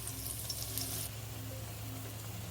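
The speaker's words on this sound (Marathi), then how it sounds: "आता वाटण टाकू आपले छान परतून घ्यायचं आहे आपल्याला तेल सुटेपर्यंत हा सगळा मसाला परतून घ्यायचा आहे" Ground masala paste sautéing in hot oil for a spicy potato vada curry, a steady low sizzle and crackle that turns quieter partway through, with no talking.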